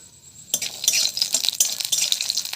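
Lentil dumplings (bori) frying in hot oil in a wok, a sudden burst of crackling sizzle with light stirring clinks, close and fairly loud with no talk.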